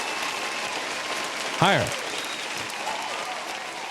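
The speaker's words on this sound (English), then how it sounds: "Give a round of applause." An audience applauds continuously, a dense steady patter of clapping throughout, while someone speaks briefly over it with a short rising exclamation midway.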